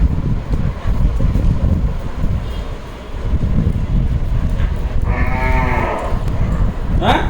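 A cow moos outdoors, one drawn-out low call rising clearly near the end over steady wind noise and rural background rumble.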